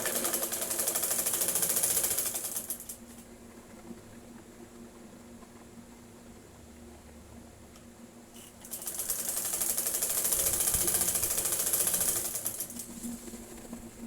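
Sewing machine stitching double seams on a women's top, two bursts of rapid, even mechanical whirring at the start and end with a quiet pause between.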